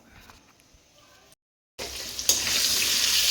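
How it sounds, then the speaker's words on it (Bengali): New potatoes with skins on start frying in a pan in a dark home kitchen: after a quiet start and a short silence, a loud, steady hiss of sizzling oil fills the rest, close and continuous. "আলুটা ভাজা হোক এদিকে"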